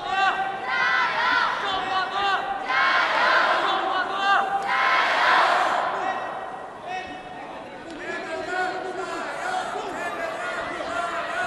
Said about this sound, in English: Crowd trying to urge them on